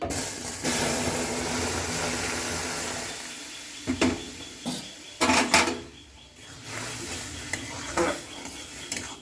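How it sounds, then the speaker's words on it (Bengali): Milk poured into semolina fried in ghee in a pan, giving a loud hissing sizzle with sharp bursts and clatter of the pan and utensils, close by with no talking. "এবার দুধ দিয়ে দেবো।"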